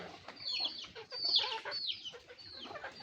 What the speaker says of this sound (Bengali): দেখেন আমার কত মুরগি।